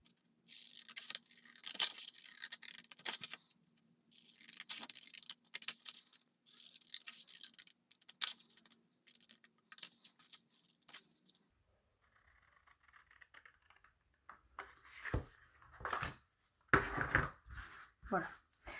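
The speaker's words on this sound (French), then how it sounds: "je découpe rapidement juste les bords" Quick snips of scissors trim the edges of paper for a scrapbooking bow, a run of short crisp cuts and rustles, with someone speaking softly between and over them.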